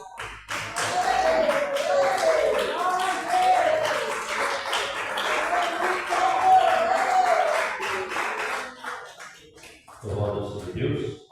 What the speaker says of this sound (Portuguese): bater as palmas bem forte para o Senhor Jesus.